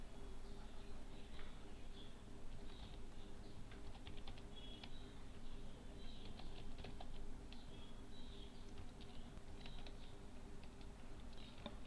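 Quiet, close keyboard typing enters a row of test data into an Excel spreadsheet, with bursts of rapid key clicks separated by short pauses. A faint steady hum sits underneath.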